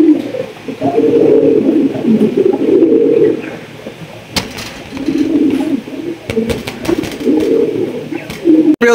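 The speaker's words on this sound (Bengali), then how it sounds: "একদম original boat টোটের black short face কবুতর।" A pair of black short face pigeons coo close by in deep, repeated rolling phrases with short pauses, mixed with a few sharp clicks and wing or cage knocks.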